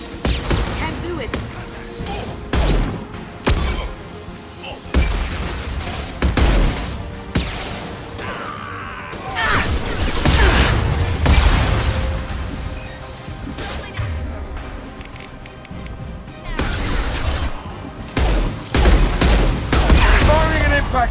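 Gunfire in a firefight in Mass Effect 2, with rapid volleys, sharp single shots and booms spread across the stretch, loud and close, and voice lines from the game heard between the shots.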